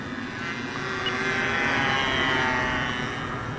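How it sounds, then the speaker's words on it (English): An eFlite Advanced 25 radio-controlled model airplane flies overhead with a steady, droning motor whine that swells slightly and fades, fairly loud, with no talk. "This in here is an eFlite plane, and it just flies absolutely wonderfully."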